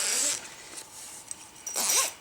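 A zipper tape is drawn through the channel of a hammock bug net, giving two quick, close zipping rasps separated by a short pause.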